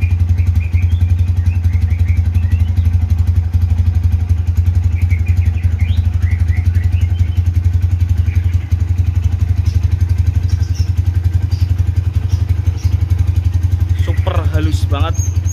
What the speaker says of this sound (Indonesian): Tapi untuk perform suara mesinnya saya jamin kayak gini banget.